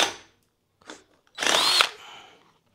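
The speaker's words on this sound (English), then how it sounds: "I'm going to go ahead and enlarge this hole now to 1/2 inch." A power drill with a half-inch bit enlarges an existing hole during an electronics controller install on a motorcycle, heard as short close whirring bursts, the longest lasting about half a second.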